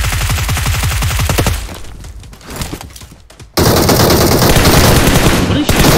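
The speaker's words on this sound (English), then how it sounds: "Why are you shooting?" Video game gunfire: rapid machine-gun bursts rattle loudly at first, fade into a quieter stretch, then a dense, continuous roar of automatic fire resumes and keeps going until the end.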